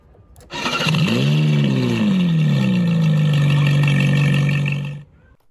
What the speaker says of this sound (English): that will trigger a sound effect of an engine starting, a vroom vroom sound effect, played through this MP3 module